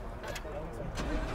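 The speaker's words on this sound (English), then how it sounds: "So we're going to start the car here" A Lamborghini Huracan Spyder's engine turns over close by with a short, low starter churn building toward ignition, brief and partly blurred.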